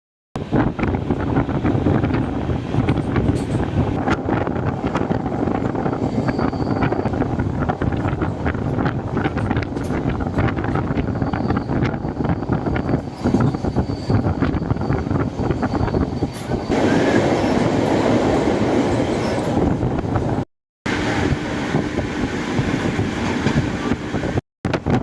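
The Grand Trunk Express departs a station, its long steady rumble of wheels and carriages building over about twenty-five seconds, with wind buffeting the microphone and a brief dropout near the end.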